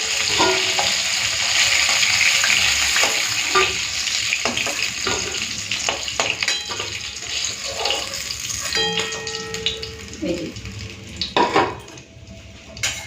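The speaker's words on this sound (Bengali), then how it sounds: "এরপরেই মাছের মাথাটা ভেজে নিই" Rohu fish head from a large fish frying in a pan, a loud steady sizzle with intermittent clanks and scrapes of a utensil, the sizzle thinning toward the end, no speech.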